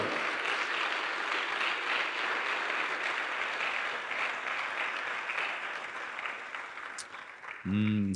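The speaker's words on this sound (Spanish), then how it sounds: "Démosle fuerte las palmas al Señor." A church congregation clapping loudly in praise during a worship service, sustained and even applause that fills most of the moment before fading slightly, followed by a short tonal sound at the end.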